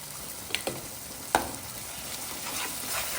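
A spoon stirs paneer masala with garam masala and salt in a pan, giving a few distinct scrapes and clinks over a low background sizzle.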